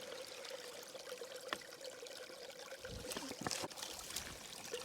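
Water is poured from a bag into a container at an ultralight solo wild camp in the Yorkshire Dales, a soft trickle that turns into a fuller gurgling splash near the end, heard close up with no talk.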